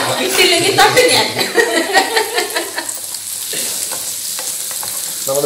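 Masala of ginger, green chilli and chilli powder sizzles and bubbles in a pan for a Kerala crab roast, with loud continuous frying and stirring. Close voices and chuckling carry over the frying.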